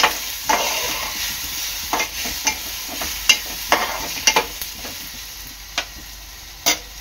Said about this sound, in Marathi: आता ह्यामध्ये टाकणार आहे मी आपलं टोमॅटो सुद्धा चांगला परतून घ्यायचा आहे।